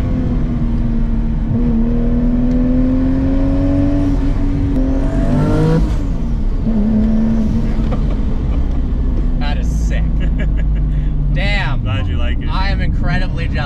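A 1200 whp, 2JZ-swapped MK5 Supra with a six-speed manual accelerates hard, its loud engine note rising through the revs, dropping at a shift, then climbing again amid turbo whooshes and whistles, with someone talking over it.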